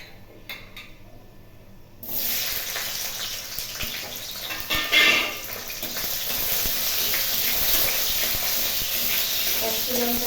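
Capsicum tossed into hot oil in a frying pan, with quiet handling at first, then a sudden loud, steady sizzle and hiss that continues unbroken.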